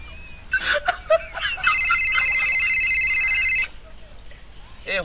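A telephone rings with a steady electronic trill for about two seconds, close and loud, between stretches of people talking and laughing.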